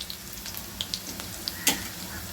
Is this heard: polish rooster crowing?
no